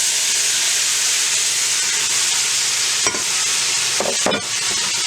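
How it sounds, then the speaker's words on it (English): Loud, steady sizzling of squash frying in a hot pan, a dense continuous hiss with a couple of brief stirring scrapes near the end. "Listen to that sizzle."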